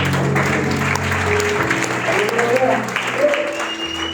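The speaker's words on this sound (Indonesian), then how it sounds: "Mari kasih tepuk tangan." Applause from a sermon audience, a steady clatter of clapping under a sustained low tone, with some voices mixed in.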